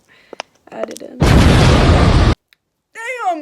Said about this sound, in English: I had like an explosion right here